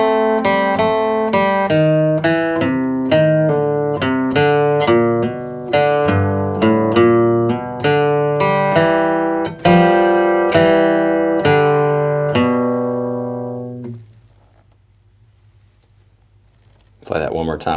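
Bluegrass guitar solo in C, measures 5 through 8, picked as a brisk, even stream of single notes for about fourteen seconds, then a quiet hum and a brief voice at the end.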